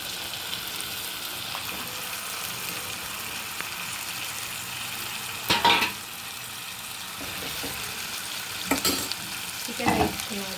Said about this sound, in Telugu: దీంట్లోకి చికెన్ వేసుకోవాలండి